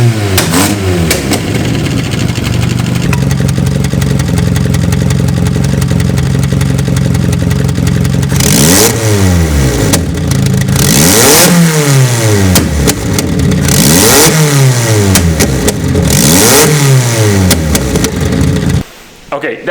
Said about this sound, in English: A 4AG with a hole in the exhaust manifold sounds like, I don't know, like a tractor with a monster truck engine